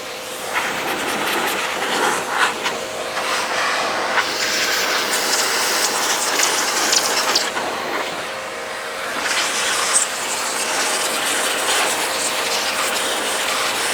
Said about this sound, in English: I'm gonna go ahead and blow this system out while I'm here as well. What we've been using is a little X power. It blows and sucks.